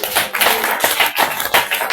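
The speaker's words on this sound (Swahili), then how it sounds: "Pigia Yesu makofi mazuri" A church congregation clapping for Jesus, with a dense burst of applause that swells and dips over a couple of seconds, loud and close with no clear voices on top.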